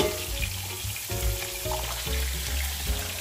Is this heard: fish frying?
yes